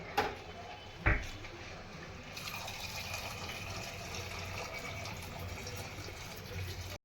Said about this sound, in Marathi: त्याच्यामध्ये गरम पाणी